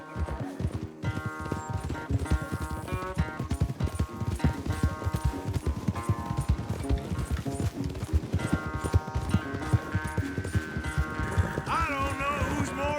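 Horses galloping in a race in the video game Red Dead Redemption II, a steady clip-clop of hooves mixed under a continuous orchestral music score that stays loud throughout.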